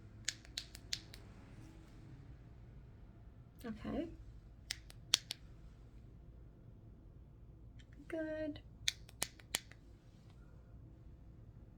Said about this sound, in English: now I'm going to do a clicking test. I'm going to be clicking.